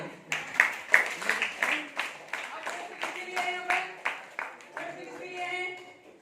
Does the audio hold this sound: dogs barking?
no